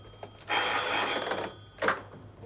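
A telephone rings inside a bank, one long clear burst of ringing followed by the start of a second ring, loud and close with no talk over it.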